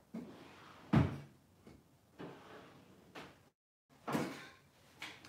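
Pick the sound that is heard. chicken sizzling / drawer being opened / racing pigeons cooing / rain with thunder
drawer being opened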